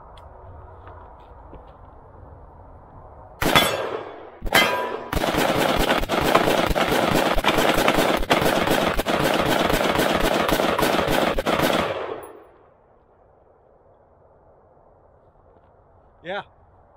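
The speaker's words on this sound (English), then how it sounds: "first time firing this, we need to see how well it handles mag dumps" A Palmetto State Armory AR-15 rifle fired in a rapid mag dump: a sharp opening shot or two, then a dense, loud string of rapid shots lasting about seven seconds before stopping abruptly, with quiet background voices.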